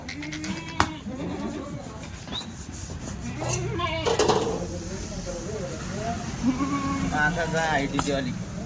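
Kathiawadi goats bleating several times at close range amid rustling and scraping, with people talking nearby throughout.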